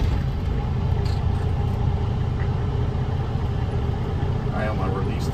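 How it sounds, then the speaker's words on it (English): Manual truck engine at idle during a driver-training check, a steady low rumble running throughout with a voice talking over it. "start the vehicle"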